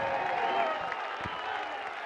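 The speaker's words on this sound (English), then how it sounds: "let's get a nice round of applause out here for both of these fighters" A crowd at a boxing match in Las Vegas applauds both fighters after twelve rounds, giving steady, dense clapping with a faint murmur, moderately distant and continuous.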